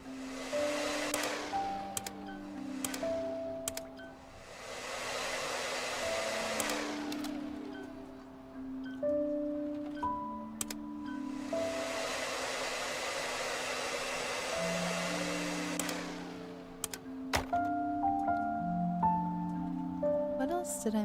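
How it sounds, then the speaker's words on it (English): A handheld vacuum in the cleaning game Undusted: Letters from the past roars in two long, loud whooshing bursts, with soft chimes and tones sounding between and over them. "I'm gonna try to vacuum it out or whatever."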